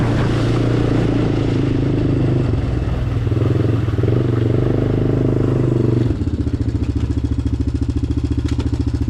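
A Honda Recon 250 ATV engine runs steadily and loudly, with a clear shift in pitch and rhythm around the six-second mark as it drops a gear, settling into a choppier, lower-pitched chug.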